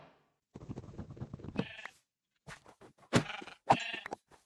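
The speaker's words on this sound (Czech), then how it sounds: "Tady, ovca." Sheep in a Minecraft-style survival video game bleat in a few short, clear calls with silent gaps between them, close and fairly quiet.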